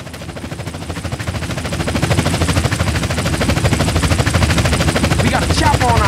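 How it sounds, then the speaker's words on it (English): Pursuing police helicopter in Grand Theft Auto San Andreas, a loud continuous rotor chop that builds slightly over the stretch, mixed with dense game engine and gunfire-like noise. "We got a chopper on our tail."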